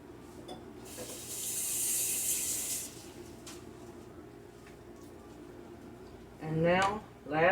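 Water runs from a kitchen tap while hands are washed, a steady broadband rush lasting about two seconds, then a quieter trickle, with a person talking briefly near the end.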